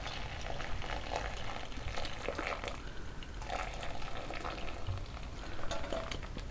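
Soap nut liquid dish soap is slowly poured and strained through a tea towel, giving continuous wet trickling, bubbling and fizzing with small splashes at close range and no talking.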